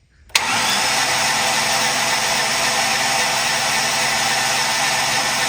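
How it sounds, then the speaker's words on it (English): A dead Ford Explorer engine is cranked over: after a brief silence a mechanical whir kicks in abruptly and holds a steady, loud drone to the end. "I'm going to go ahead and crank this engine over"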